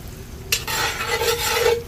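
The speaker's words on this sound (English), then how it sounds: "Now we're going to stir that around" Apples stirred in a pan for a dump apple cobbler, a spoon scraping and sizzling steadily at close range for under two seconds, starting with a sharp clack.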